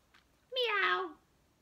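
A single clear meow, short and close, rising then falling. It may be a person imitating a cat.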